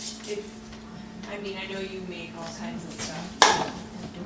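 A glass jar lid seals shut with a single sharp click near the end, set against kitchen clatter of dishes and cutlery while people talk throughout.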